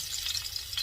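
Hilsa fish fries gently in a pan over low heat, giving a soft, steady sizzle with faint crackles. It is fairly quiet and brief.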